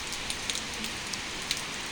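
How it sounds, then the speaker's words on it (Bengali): Heavy rain pours down in early November, a steady close hiss broken by occasional sharper drips landing nearby. "অনেক বৃষ্টি হইতেছে।"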